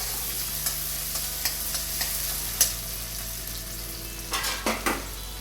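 Garlic, ginger and green chilies stir-frying for Indo-Chinese veg fried rice: a continuous close sizzle broken by regular clinks and scrapes of a spatula against the pan, louder bursts near the end.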